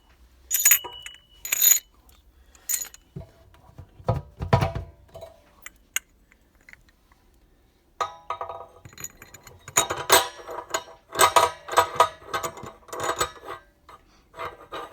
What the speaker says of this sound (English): now I will install the locking screw here to the main shaft